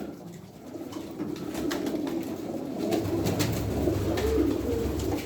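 Pigeons crowd onto freshly scattered bird feed in a loft, a steady mass of soft cooing and rustling with occasional wing flutters, close and continuous without any talking.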